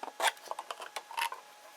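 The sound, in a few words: scissors point prying open a package edge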